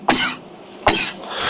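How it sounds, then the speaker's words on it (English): Two sharp, close coughs from a man during a police interrogation, each a short harsh burst with a rough tail, spaced under a second apart. "The cough at the end is wild."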